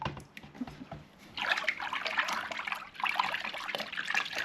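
Liquid poured into a lukewarm water foot bath for a rescued chicken and stirred by hand, giving soft, continuous splashing and trickling close by, louder in two sustained bursts with no talking.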